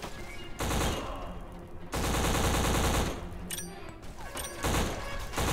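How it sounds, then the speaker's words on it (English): Heavy gunfire and grenade blasts in the first-person shooter Black come in loud, dense bursts, with long rattling volleys separated by short lulls and sharp crashing impacts near the end. "Lots of grenades, everyone!"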